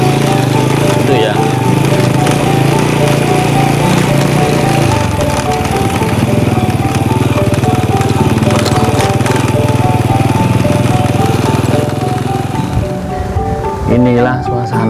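A motorcycle engine hums steadily on a cool morning in a Javanese village, droning continuously at moderate distance. Its pitch shifts partway through, and the sound fades near the end.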